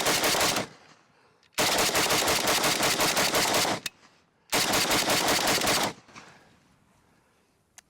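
RPK rifle fitted with a Bulgarian magazine firing two long, loud full-auto bursts outdoors, the second starting after a short pause, each burst ending abruptly and followed by quiet.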